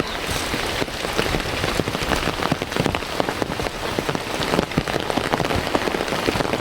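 Steady rain pours on surfaces in a farming village in Kampung Cibogo, a loud, dense hiss with countless close drops pattering and ticking without pause.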